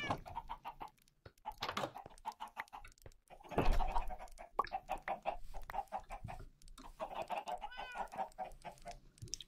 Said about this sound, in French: On va commencer à nourrir de la poule aussi.